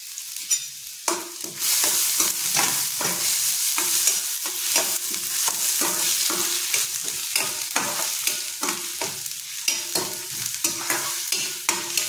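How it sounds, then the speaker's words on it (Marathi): Onion, finely chopped garlic and curry leaves hit hot oil with a loud burst of sizzling, followed by a continuous crackle and rhythmic scraping strokes of stirring, close up and without speech. "हे बघा, आपल्या इथे तेल तापलेलं आहे। त्यात आपण आता कांदा आणि बारीक चिरलेला लसूण टाकणार आहोत आणि कढीपत्ता।"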